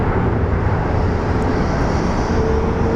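A small Embraer jet waits at Sky Harbor airport, probably before takeoff on runway 25 right, giving a steady, loud, unbroken engine roar and rumble with no change over a few seconds.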